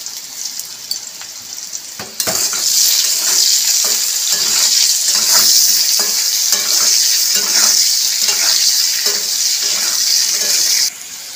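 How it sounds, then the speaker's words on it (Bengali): Boiled potatoes frying with salt for masala french fries, a bright continuous sizzle that swells after a couple of seconds, with scattered spatula stirs underneath, close and loud, no voices. "নুন দিয়ে আলুটাকে ভাজতে থাকবো"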